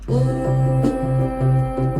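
A sustained instrumental backing track plays alone, with held tonal chords and a repeating low bass pattern shifting every half second or so.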